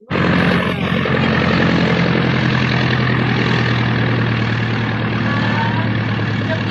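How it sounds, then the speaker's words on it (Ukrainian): An airplane in flight gives a loud, continuous engine roar that starts abruptly and holds steady throughout. "То Лізочка, ми летіли в Африку на літаку"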